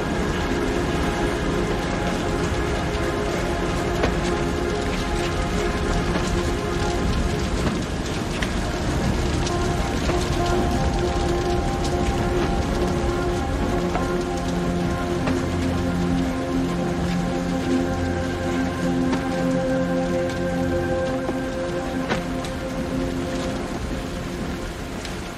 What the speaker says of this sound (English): The rain will stop.